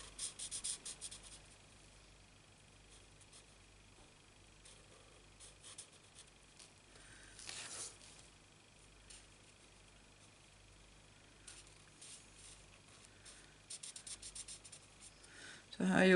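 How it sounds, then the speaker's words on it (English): Pen colouring in a stamped leaf on cardstock during a Stampin' Up card-making session, giving soft, quiet scratchy strokes in short bursts, faint and close, with a low background hum. "I'm only going to colour one of the leaves in, don't need to do them both."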